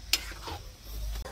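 A spoon scrapes and stirs a simple tadka for chana, moong and rajma in a sizzling pan, with a sharp clink near the start and soft frying underneath.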